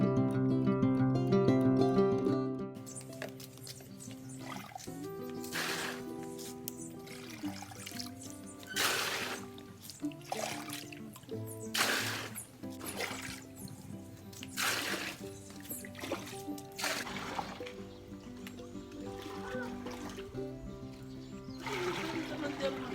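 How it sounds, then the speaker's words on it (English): An indoor tap left running during hand laundry pours and splashes water continuously, with bursts of louder gushing and sloshing, while a person talks intermittently over it. "I left the tap running. Look at all this water."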